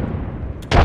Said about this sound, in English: Chucking a frag.